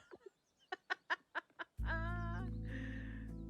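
Game birds in Minecraft give a run of short chirps and clucks, then a sustained harmonic squawk-like call rings out loud and close, alone without talk.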